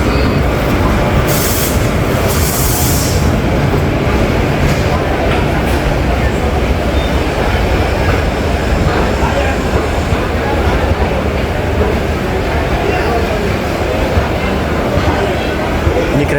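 Train arriving at a station in India, a constant loud rumble of wheels and rail noise with crowd background, steady throughout and close by.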